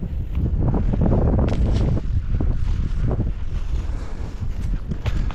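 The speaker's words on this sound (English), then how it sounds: "Going straight into a headwind here." Strong wind buffets the microphone in a continuous loud rumble, gusting unevenly, heard outdoors while heading into a headwind on a winter rabbit hunt in Kansas.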